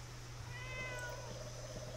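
A cat in the video game Fallout 76 lets out a single soft, drawn-out meow over a low steady hum.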